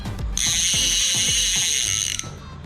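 A Ryoko jigging reel's click ratchet clicks rapidly and evenly, a dense mechanical buzzing of clicks lasting about two seconds, close and loud.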